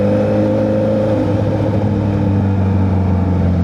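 A Kawasaki ZH2 motorcycle engine running steadily close by, a loud continuous droning hum with a slight rise in revs, no voices over it.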